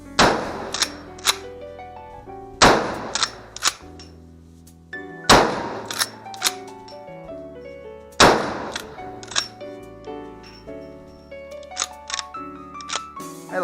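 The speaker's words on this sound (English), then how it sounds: "here you'll be seeing me shoot my mare's leg in 44 Magnum" A mare's leg lever-action gun chambered in .44 Magnum fires four loud, sharp shots spaced a couple of seconds apart at an outdoor range, each followed by ringing echoes and the metallic clack of the lever.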